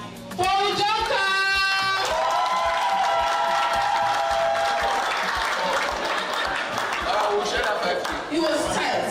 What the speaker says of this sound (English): Please, a round of applause for Udoka.